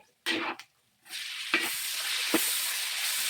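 Pork cubes and chayote hit a hot pan and fry with a strong, steady sizzle, broken by a few sharp scrapes and stirs, loud and close with no talking.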